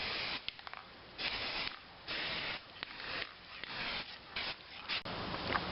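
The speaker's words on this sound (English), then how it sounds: "Spray a line on here." Several short bursts of spray paint marking a cut line on a wooden ramp board, close and fairly loud, separated by brief pauses with faint handling noises between them.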